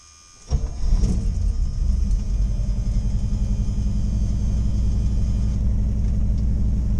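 A 1977 Pontiac Trans Am engine catches and settles into a deep, loud, steady rumbling idle, recorded from inside the car, with no talking.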